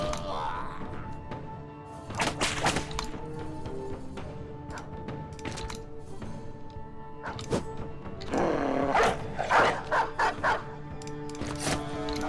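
Dogs attack in a Minecraft manhunt, with bursts of repeated sharp barking and yips from several animals, clustered loud volleys separated by brief gaps, over faint background game noise.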